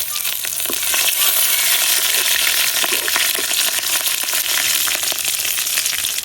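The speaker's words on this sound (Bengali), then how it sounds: "পেঁয়াজ আর রসুন গুলা যে বাজা হয়ে গেছে এখন দিয়ে দিতেছি কাঁচামরিচ" Green chilies dropped into onion and garlic already browning in hot oil, giving a loud, steady sizzle and crackle of frying that runs throughout with no talk.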